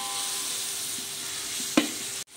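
Onions frying golden in a pan for veg biryani, a soft continuous sizzle close by with a single sharp scrape of a stirring spoon near the end, then an abrupt cut.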